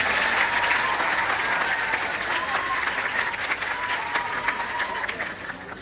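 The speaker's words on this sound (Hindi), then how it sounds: "जोरदार तालियों से इसका समर्थन करें।" An audience at a political gathering in Assandh, Haryana, breaks into loud, sustained applause that keeps an even, dense intensity throughout.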